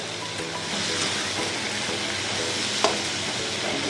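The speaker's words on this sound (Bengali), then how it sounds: "বেল পেপারগুলো আর রসুনটা একটু ভালো করে ভেজে নিচ্ছি।" Bell peppers and garlic fry in a hot pan with a dense, steady sizzle throughout, close and constant, with one brief stir or clink near the end.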